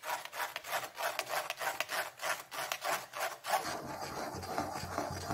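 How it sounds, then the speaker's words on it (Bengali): Blended green chilli sauce pushed through a strainer, a steady run of rhythmic scraping and rubbing strokes, close and fairly quiet, with a softer rustling texture in the last seconds. "আমি আবার এটা ভালো করে ছেঁকে নিচ্ছি মিক্সিতে চালানোর পরে"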